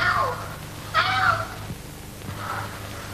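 A house cat gives three separate meows, spaced about a second apart and fairly close, the last one softer, with no talk over them.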